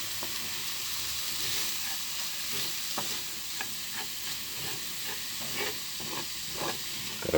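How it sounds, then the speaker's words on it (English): Curry powder and turmeric being stirred into a sizzling frying pan for a prawn curry, a steady hiss of frying with repeated scraping clicks of the spoon against the pan, fairly quiet and close, no talking. "Give it a good mix around."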